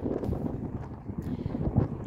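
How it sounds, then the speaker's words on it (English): Strong wind blows across open green grassland near Stonehenge in England, buffeting the microphone with a steady low rumble and gusty bursts, loud and close, with no talking. "It's very windy."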